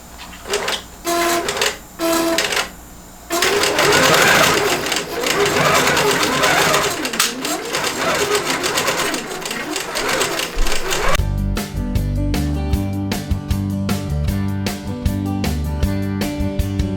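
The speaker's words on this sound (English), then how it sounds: "And now I'm going to tell it sew." A longarm quilting machine stitches a pantograph pattern, first a few short bursts, then long runs of rapid mechanical chatter. A steady rhythmic hum takes over near the end. Nearby and clear, with no voices.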